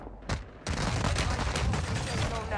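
Automatic gunfire in a battle royale video game: a single sharp shot, then a dense, loud stream of rapid rounds that continues steadily to the end.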